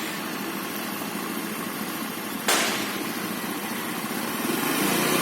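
Motorcycle engine running steadily through a riding lesson, a continuous close droning hum with a brief sharp rise midway, the motor held at a constant pace as the rider goes straight.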